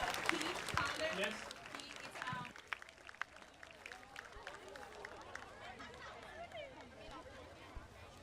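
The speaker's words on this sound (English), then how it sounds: "how about a nice round of applause for all our graduating seniors and their parents" A distant crowd at a high school football game claps and applauds steadily, with scattered chatter and babble mixed through the clapping.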